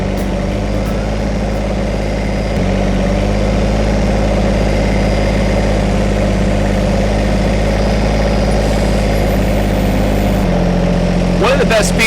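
A Kubota BX series compact tractor fitted with a front loader idles at close range, its engine holding a steady, even hum for the whole stretch with a slight shift partway through.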